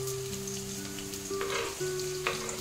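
Onion and green chilli sauté in a pan with a steady moderate sizzle and a couple of louder stirring scrapes, over a faint sustained hum from a nearby appliance.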